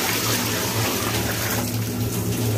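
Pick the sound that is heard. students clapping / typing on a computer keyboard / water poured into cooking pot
water poured into cooking pot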